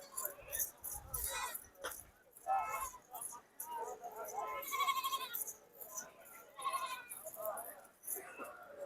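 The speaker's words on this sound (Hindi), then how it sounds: "अच्छी नस्ल की बकरी है जी।" Goats bleat repeatedly at a busy livestock market selling dairy goats of good breed in Pakistan, several calls overlapping at moderate distance while people chatter in the background.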